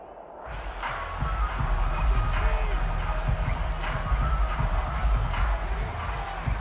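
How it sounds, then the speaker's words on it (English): A football stadium crowd roars and shouts while watching a replay, producing a broad, sustained, distant wash of noise that swells after a quieter opening and stays loud to the end. "Plenty of shouts from this crowd as they watch the replay"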